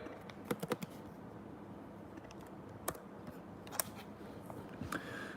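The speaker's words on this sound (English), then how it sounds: "typing something on my keyboard real quick." Quick bursts of typing on a computer keyboard: scattered, clicky keystrokes in short clusters over a quiet room background, with no talking.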